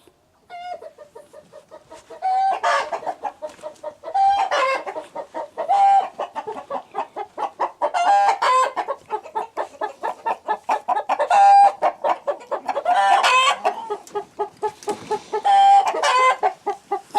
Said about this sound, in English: So this rooster and this hen are warning that there's a dog in the area.